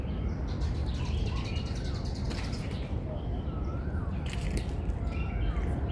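Birds in an aviary at Tsuen Mun Park, Hong Kong, give scattered chirps and short calls over a busy background of visitor chatter and ambient noise, with a couple of clearer whistled notes standing out.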